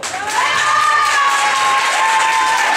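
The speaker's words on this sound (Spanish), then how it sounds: "Aplausos para Carmen Romero." Dense audience applause for a performer at a talent gala, steady and loud throughout, with cheering voices and whistle-like tones riding over the clapping.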